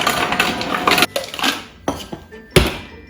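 Ice clattering into a glass or shaker while mixing a pumpkin pie martini, a few loud clinks and knocks at close range, the sharpest strike near the end, with no talk.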